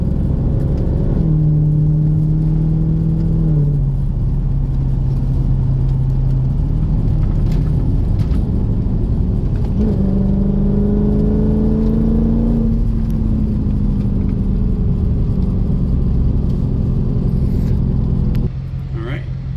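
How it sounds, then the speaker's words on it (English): A red 2018 Dodge Daytona 392 engine revs and accelerates from inside the car, its rising harmonic drone climbing in two pulls, steady and loud throughout. "This one's got really good acceleration."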